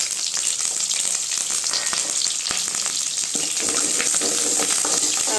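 Shallots, garlic and curry leaves sizzle and crackle steadily in a hot pan for fish curry, a loud, continuous frying hiss with occasional stirring clicks.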